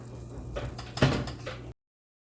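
Oven door in a home kitchen shutting after a dish of feta pasta with spaghetti squash and shrimp goes back in, a single close thud with a brief clatter against quiet room noise.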